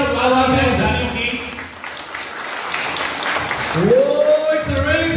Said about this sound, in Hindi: एक बार जोरदार तालियां सभी के लिए